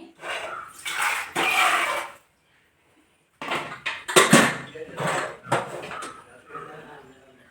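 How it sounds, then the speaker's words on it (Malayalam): Metal pots and utensils clatter and clank in short sharp bursts as washed beans are put into a pressure cooker in a home kitchen, with a brief silent pause in the middle. "ആ ഒരു പയർ ഒരു രണ്ട് മൂന്ന് പ്രാവശ്യമൊക്കെ വാഷ് ചെയ്തിട്ട് നമുക്ക് കുക്കറിൽ വേവിക്കാൻ വേണ്ടിയിട്ട് വെക്കേ"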